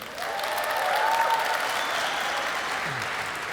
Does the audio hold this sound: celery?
no